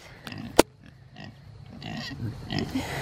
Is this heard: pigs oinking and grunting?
yes